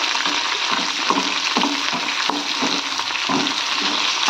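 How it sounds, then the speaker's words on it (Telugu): Garlic and curry leaves fry in a hot pan, a continuous close sizzle broken by regular soft knocks and scrapes of stirring. "ఇది కొంచెం ఫ్రై అవుతుందామండి."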